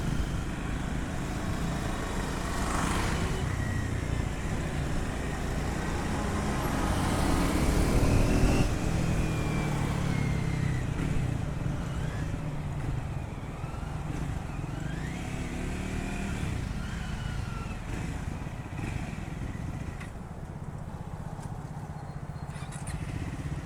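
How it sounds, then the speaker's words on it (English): A Triumph Scram 400 motorcycle engine revs hard in traffic, a loud, continuous drone that rises and swells around the middle before easing back to a steady idle-like hum. "I was just revving the bike like a slight maniac"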